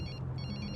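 A telephone rings in a movie scene, a short burst of a repeating electronic ringtone, fairly faint under a dense background.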